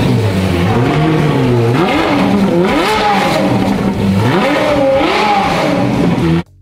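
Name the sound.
old Ferrari engine revving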